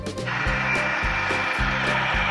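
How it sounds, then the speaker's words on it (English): A saw cutting wood into lumber for a cabin build, loud steady grinding with rhythmic strokes repeating about every half second, heard alone without voices. "With the lot leveled, sawing can begin."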